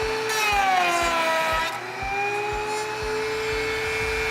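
A router spins its bit through wood to cut a rabbet joint, a loud close high-pitched whine whose pitch sags under load and then recovers, with rhythmic thumps from the cut running throughout.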